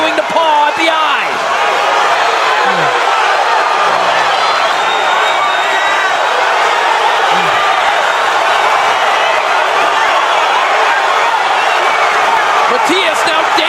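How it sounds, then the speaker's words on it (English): Boxing arena crowd roaring steadily through a fight between Gabriel Gollaz Valenzuela and Matias, a dense, loud wall of cheering that never lets up, with a commentator talking over it. "the crowd is going"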